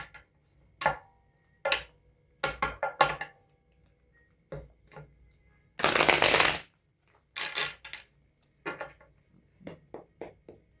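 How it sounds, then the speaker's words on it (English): A tarot deck is shuffled by hand in bursts: quick papery riffles and taps, clear and close, separated by quiet pauses, with one longer continuous riffle in the middle. "All this shuffling, I still got the Seven of Swords on the bottom of the deck"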